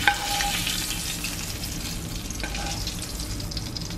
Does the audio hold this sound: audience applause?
no